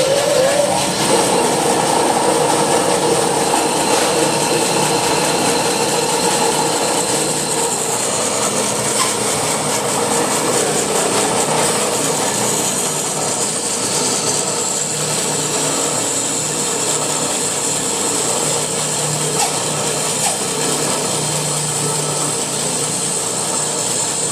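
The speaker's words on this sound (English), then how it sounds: "So wait till the blade reaches full speed." A table saw spins up to full speed and cuts wood in a school shop, a loud continuous whine holding steady for the whole stretch with the pitch shifting slightly as the blade works through the board.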